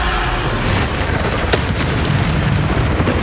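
A loud, sustained barrage of explosive booms and rumbling blasts from Bombarda spells during combat in Hogwarts Legacy on PS5, dense and continuous with no pauses.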